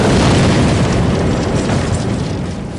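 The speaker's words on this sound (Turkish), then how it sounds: "Saniyeler sonra ikinci torpilin çarpmasıyla büyük bir patlama daha oldu." A second torpedo slams into the aircraft carrier HMS Courageous, setting off a huge, loud explosion whose deep rumbling roar rolls on and gradually fades, with no voices heard.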